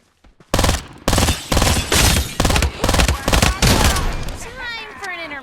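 Gunfire in the battle royale video game Farlight 84: loud, rapid bursts of automatic fire come in about seven clusters over a few seconds, then trail off into ringing echoes.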